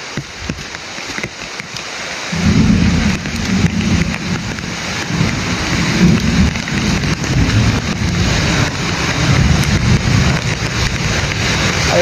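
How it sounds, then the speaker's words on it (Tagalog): Heavy rain pours down in a steady, loud roar that swells after a couple of seconds and stays dense, mixed with gusty wind buffeting, and no clear thunder or voices. "Sobrang lakas ng ulan mga tol."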